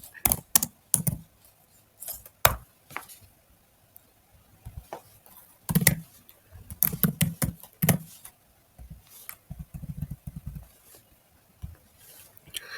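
Code being typed on a computer keyboard, irregular bursts of close, light key clicks with short pauses between clusters, alone without talk.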